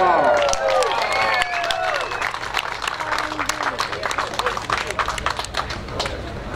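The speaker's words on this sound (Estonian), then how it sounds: "See aplaus oli natukene nõrgaks" Audience at a motocross award ceremony in Põlva claps for a podium finisher, a modest spread of applause that thins out over several seconds, mixed with crowd murmur and voices over a loudspeaker.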